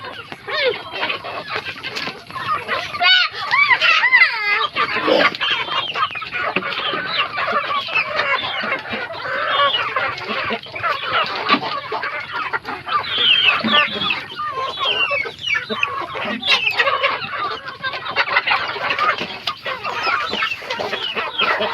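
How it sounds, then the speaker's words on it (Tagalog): Flock of native chickens clucking and calling continuously and fairly loud, with overlapping hen clucks and occasional crowing, no talk. "yung mga naiwan na mga manok natin"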